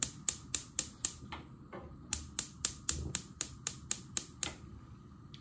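Gas stove burner igniter on a hob converted from natural gas to LPG clicks in a steady, rapid series of sharp ticks, close and clear with no talk, briefly pausing midway.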